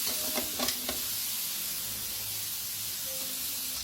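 Liver sautéing in a hot pan for an igado dish, a steady close sizzle with a few quick stirring scrapes at the start, no voices.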